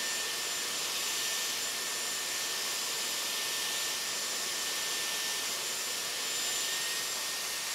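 A Dyson Airwrap hair styler runs steadily with hot air while curling hair, a loud, continuous high-pitched whirring blow with a faint tonal whine that holds throughout without a break.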